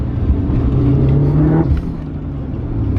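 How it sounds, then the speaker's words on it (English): An Evo 5 car engine drones loudly under hard acceleration, with a steady low roar that briefly dips and wavers as it hits boost cut, heard from inside the cabin. "That's a boost cut and a half right there."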